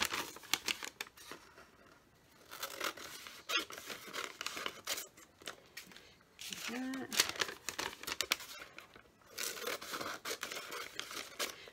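Scissors cut scraps of paper in half, with close crisp snips and paper rustling coming in bursts beneath a person talking.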